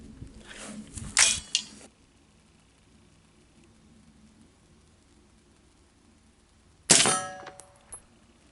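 Gunfire from a gun fitted with a SilencerCo Omega suppressor: two sharp, loud, muffled cracks about six seconds apart, each trailing into a brief metallic ring, with quiet in between.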